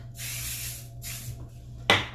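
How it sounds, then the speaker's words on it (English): Lanza Dramatic FX aerosol hairspray sprays in two bursts, a long hiss then a shorter one, close and clear, followed by a sharp click or knock at the end. "now I'm gonna take a light hairspray. This is Lanza's Dramatic FX aerosol."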